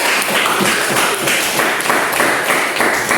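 A classroom full of people claps steadily for group 2 during an English lesson for fourth graders, a dense, even patter of hands filling the room throughout, with no talking.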